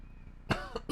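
Two or three sharp coughs in quick succession, close to the microphone, after a moment of quiet room tone.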